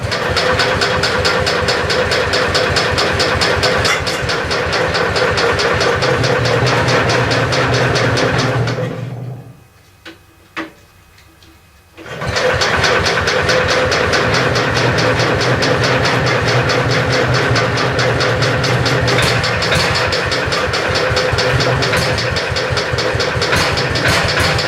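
An old engine, hand-choked and throttled up, runs with a loud, steady knocking chug, drops out briefly into a few faint sputters and pops, then catches again and keeps running strongly close by.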